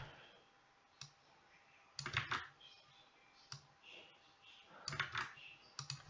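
Typing on a computer keyboard comes as scattered bursts of soft clicking keystrokes, faint and close, with short pauses between clusters and no talk over them.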